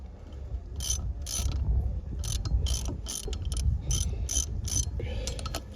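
A ratchet winds nuts onto wheel studs on an 80 Series front hub, with bursts of rapid clicking repeated about a dozen times, close and clear, with no talking.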